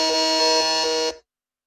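A single loud, harsh electronic buzz holds steady for just over a second, then cuts off abruptly into silence.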